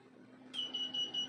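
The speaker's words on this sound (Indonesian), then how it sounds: "ini otomatis akan berbunyi buzzer, berbunyi berkali-kali ya" A digital MBR bench power supply's buzzer sounds a rapid series of high, thin beeps after its output leads short, faint and close over a low background hum.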